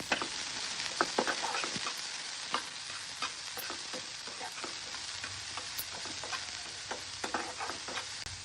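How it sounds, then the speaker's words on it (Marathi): Finely chopped onion fries in hot oil with cumin and mustard seeds, giving a steady close sizzle with frequent crackles and quick stirring scrapes throughout. "एक कांदा कापून घेतला होता बारीक, तो पण यात आपण ऍड करूया."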